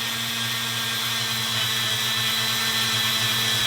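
A small power tool runs continuously while polishing a Glock trigger part, a steady high whine over a low motor hum, close and unbroken, with no talking.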